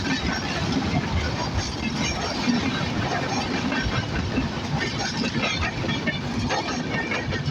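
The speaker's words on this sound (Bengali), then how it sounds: "আরও একটি ট্রেন চলে যাচ্ছে, বাট নাম জানি নাই, দ্রুতযান এক্সপ্রেস।" The Drutojan Express rolls through a station in Bangladesh with a continuous loud rumble and rattle of wheels and cars that stays steady from start to finish. Faint voices may sit under the noise.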